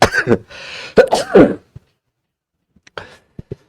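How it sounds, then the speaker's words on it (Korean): A person coughs twice in quick succession at close range, followed by a few faint throat clicks and small breathy noises in an indoor church setting. "기침을 제가 하더라도 이미 바이러스는 이제 없으니까 불안해하지는 마시고 괜찮은 기침이다 이렇게 생각하시면 돼요"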